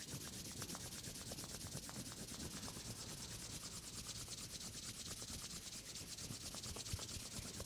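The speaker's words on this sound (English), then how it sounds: "Take a moment to bring your palms together and rub your hands briskly until" Palms rubbed briskly together in a quiet yoga setting, a steady close friction swishing that runs on continuously with even, rapid strokes and no talking.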